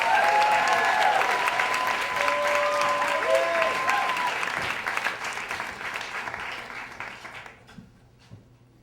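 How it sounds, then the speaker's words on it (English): Sustained audience applause at a live storytelling show as a storyteller walks on stage, loud and dense at first, then thinning and fading out toward the end with a few scattered claps. "Keep your applause going for Jeff Simmermon."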